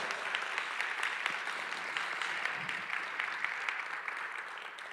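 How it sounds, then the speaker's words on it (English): Round of applause from an audience at a Martin Luther King Jr. Day ceremony honoring an elementary school, steady moderate clapping heard from a distance throughout, with no talking. "Let's give them a round of applause."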